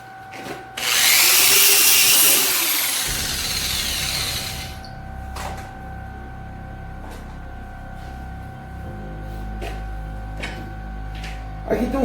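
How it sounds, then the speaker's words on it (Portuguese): A power sander or rotary polisher works over the surface of a giant wooden vase with natural edges, a loud whirring burst at first, then settling into a steadier, quieter grinding hum with faint taps. "Aqui tem um segredinho na hora de lixar esses vazios, tanto na rota orbital quanto nessa politriz"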